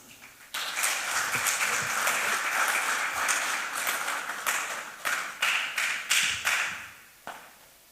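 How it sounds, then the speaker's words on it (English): Audience applause at the opening ceremony of an aquaculture conference in Ghana, a broad steady clapping that starts abruptly, holds loud for several seconds, then breaks into uneven bursts as it tapers off. "With a round of applause, please welcome Dr. Enim Sumwa."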